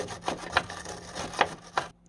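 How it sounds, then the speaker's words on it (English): Wire brush scrubbing grime and rust off a VW Caddy 2K suspension drop link area, a few short close scraping strokes in an irregular rhythm before the sound cuts off. "First job, obviously, wire brush off all the shit."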